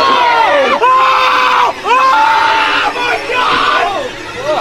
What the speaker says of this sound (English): while all my friends are literally screaming for their lives